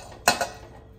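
A single sharp metallic clank of a metal pot and pressure cooker being handled, followed by a softer second knock, in an otherwise quiet room.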